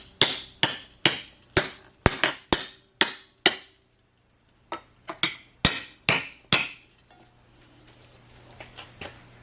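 A hammer shaping sheet metal for a rocker panel rust repair strikes in two rhythmic runs of sharp ringing blows, about a dozen in all, close and loud, then quiet tapping fades out.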